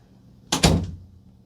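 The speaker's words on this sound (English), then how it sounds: "Now I'm going to open the door and pretend I'm leaving." A door opens indoors with a short, solid clunk of the latch and a brief rattling thud, close and clear in an otherwise quiet room.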